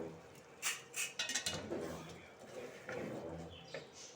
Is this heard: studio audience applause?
no